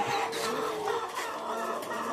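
Peruvidai cockerel about five and a half months old, a game-fowl breed raised on a farm, clucking softly and steadily for about two seconds amid rustling background noise, no talk.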